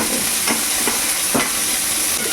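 Small onions being stirred in a hot pan for idli sambar, with a continuous sizzle broken by a few brief scraping strokes close by.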